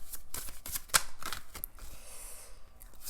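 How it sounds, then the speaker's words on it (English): Fortune cards being shuffled by hand make soft, irregular papery riffles and light taps, faint and close, with a few sharper clicks scattered through. "I'm going to shuffle these fortune cards for you"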